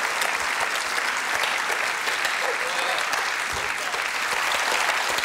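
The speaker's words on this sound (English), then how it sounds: "Ladies and gentlemen, without question, a special round of applause for who I presume is the inevitable winner, Mr. Tim Key." Studio audience breaks into a sustained round of applause on a comedy panel show, an even, dense wash of clapping from many hands that stays steady throughout.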